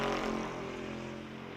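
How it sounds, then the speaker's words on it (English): A GT race car in a Blancpain GT World Challenge America qualifying session at Watkins Glen, its engine a loud steady tone that fades slightly as it passes, heard alone. "It's a beautiful race car. It really is, isn't it? And it sounds just exquisite as well."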